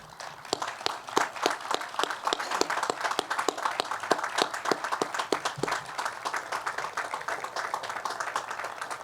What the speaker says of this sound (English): We'd love to give you a collective round of applause for the Schmitt family and the descendants.